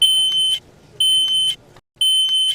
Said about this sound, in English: a smoke detector exactly like this one helped alert the homeowner